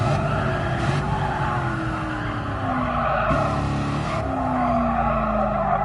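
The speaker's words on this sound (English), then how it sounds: "Going 70 miles an hour in a little Cobra car." A small Cobra sports car races in Gran Turismo Sport on PS4 VR, its engine droning loud and steady with gliding pitch shifts through gear changes, while tire squeal and skidding ride over the engine throughout.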